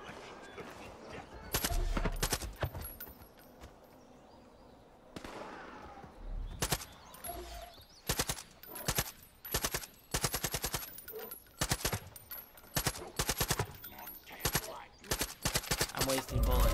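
Rapid gunfire bursts in the video game Far Cry 5, loud close volleys of automatic shots repeating in clusters with short pauses between, a quieter stretch early on.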